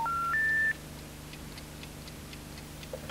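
Two short steady electronic tones, like keypad dialing on a mobile phone, open the clip, followed by faint ticking over a low hum; no voices.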